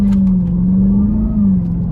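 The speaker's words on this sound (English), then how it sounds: "just a little tap of the accelerator off the line, and this all-wheel drive system, it just launches you" A 2023 Dodge Durango SRT Hellcat with a supercharged 6.2 V8 launching off the line, a loud, deep, steady engine drone heard from inside the cabin.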